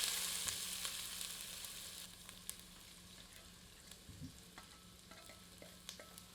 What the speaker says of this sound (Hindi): इसे तेल में मध्यम आंच पर तब तक भूनते हैं जब तक कि यह पारदर्शी नहीं हो जाती।